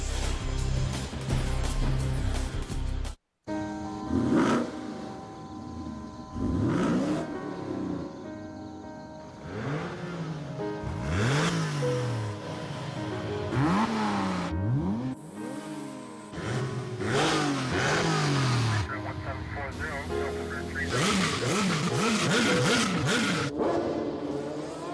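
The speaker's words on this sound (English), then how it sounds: "The new Cayenne GTS" Porsche Cayenne GTS engine revving and accelerating in a TV commercial, with a string of rising engine sweeps and gear changes repeating over about twenty seconds, loud and close over a music bed.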